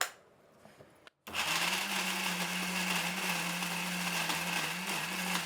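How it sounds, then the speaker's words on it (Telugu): A kitchen mixer grinder blends chutney. A short quiet lead-in gives way to the motor kicking on and whirring loud and steady, close by, until the end. "ఇప్పుడు చట్నీ మిక్సీ పట్టేద్దాం"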